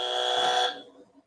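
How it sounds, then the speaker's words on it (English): A loud, harsh buzzer sounds once for under a second as a steady tonal blare, then cuts off into a quiet tail. "Hit the buzzer twice"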